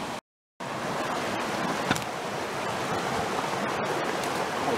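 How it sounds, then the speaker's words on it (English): Mountain stream water rushing steadily through a rocky gorge, a continuous broadband wash close by with a brief dropout near the start and no talking. "then the water continues on down along this flat area"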